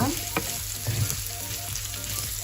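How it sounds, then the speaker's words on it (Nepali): Two green chilies fry in hot oil in a pan for sabudana snacks, a dense crackling sizzle with a few sharp pops and light stirring scrapes, close and continuous without speech. "त्यसपछि मैले 2टा हरियो खुर्सानी राख्दैछु।"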